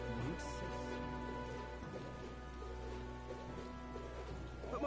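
Rain falling in the video game Metaphor: ReFantazio, a steady soft patter with low rumbling underneath, continuous and even throughout.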